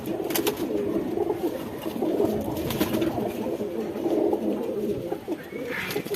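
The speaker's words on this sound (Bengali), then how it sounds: "ভাইয়ের বাসার কবুতরগুলো খুবই অ্যাক্টিভ।" Pigeons in a home loft with breeder and senior males coo steadily and close, overlapping low throaty calls with a few wingflap-like bursts, continuous throughout.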